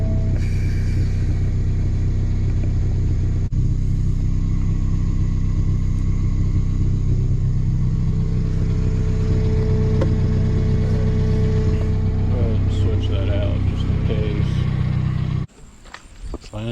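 A Nissan 240SX engine with a fuel tank problem runs steadily, a loud, continuous low rumble with faint mechanical ticking, cutting off abruptly near the end.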